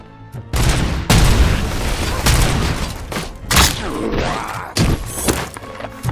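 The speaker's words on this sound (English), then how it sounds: "Goddamn grenades!" Grenade blasts in the video game RoboCop: Rogue City: several loud, booming explosions in quick succession, with gunfire and clanking mechanisms mixed in between.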